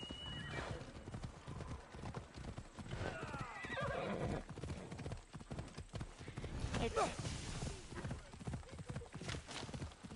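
Horse hooves clip-clopping and a horse neighing in the PS4 game Assassin's Creed Odyssey, steady hoofbeats throughout with a whinny, under a player's talking.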